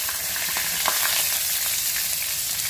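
Onions frying in hot oil with mustard seeds, urad dal and chana dal for a drumstick leaf tempering give a steady, close sizzle dotted with sharp little crackles and pops, with no talking.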